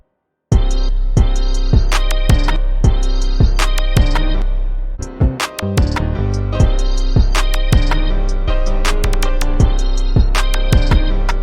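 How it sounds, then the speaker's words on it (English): A laser sound effect from Chambers Undeniable Drum Kit Volume 2 layered into a hard trap beat, with sharp zapping hits repeating in rhythm over pounding 808 bass and drums after a brief silent start, loud and busy throughout. "I got a laser and I added it, and it sounds like this"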